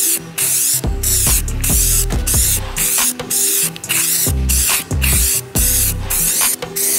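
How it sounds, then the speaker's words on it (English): Bed liner coating is sprayed onto fiberglass and birch wood in a rapid series of loud hissing bursts, each separated by short pauses, close up and with no voices. "We're going to go ahead and spray it."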